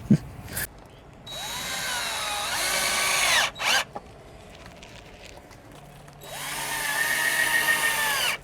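A power drill bores a hole in scrap wood while a herb planter box is built, whining in short bursts near the start and middle, then a longer steady run toward the end with quiet gaps between.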